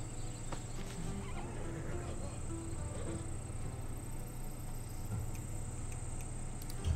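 A horse whinnies faintly amid a low, steady Assassin's Creed Odyssey game ambience with insect-like ticking and a high constant tone.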